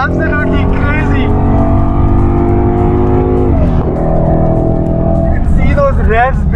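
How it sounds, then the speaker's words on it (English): A Ford Mustang engine revs and builds in pitch, then eases off as the car slows, loud and close, with people talking excitedly over it. "Those revs building up and the amount of braking power that this car has."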